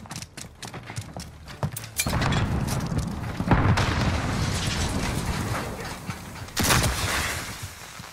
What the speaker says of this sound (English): Weapon cocked.